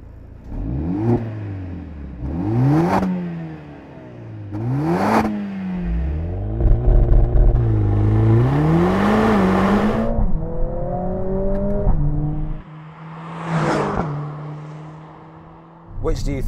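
A new Mercedes-AMG A45 S engine revs repeatedly, rising and falling in pitch through several sharp throttle blips and a longer sustained rev, loud and close.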